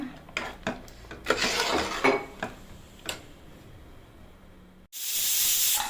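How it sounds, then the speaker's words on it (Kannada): Metal clatters and clinks a few times, then a sudden loud, sustained hiss of steam bursts out near the end as a pressure cooker whistles while cooking chicken curry. "ನೋಡಿ, ಈಗ 3 ವಿಜಿಲ್ ಕೂಗಿದೆ"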